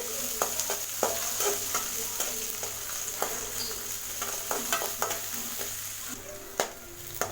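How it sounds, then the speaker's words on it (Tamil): Chopped onions sautéing with mustard seeds, cumin and urad dal for beetroot poriyal, a constant oily sizzle with frequent quick spatula clicks and scrapes against the pan, close by and alone. "கட் பண்ணி வச்சுருக்கிற வெங்காயத்தை இதில் சேர்த்திடலாம். வெங்காயம் லேசாக வதங்கினா போதுமானது"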